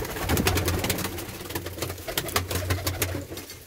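Pet pigeons kept at home coo in low, repeated throaty phrases close by, with soft rustling and scattered clicks in the background and no one talking.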